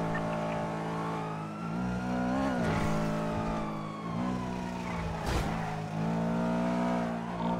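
A Ford Taurus roars through a chaotic police chase in a role-play driving game, its engine droning steadily with rising and falling revs and sharp bursts, loud and continuous throughout with no talking.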